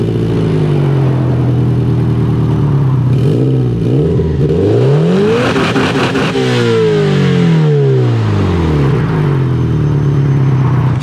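A Subaru Impreza WRX STi flat boxer engine revs up and down several times, its low throaty rumble swelling and falling, loud and close, with no talking.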